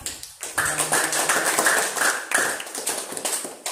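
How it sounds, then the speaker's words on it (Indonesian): A class of schoolchildren in an Indonesian classroom claps hands together in steady, loud, continuous applause that starts after a brief pause and keeps going to the end. "Tepuk tangan untuk semuanya."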